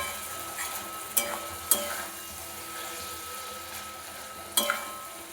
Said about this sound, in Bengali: এরকমভাবে মাংসটা খুব ভালো করে কষিয়ে নেব।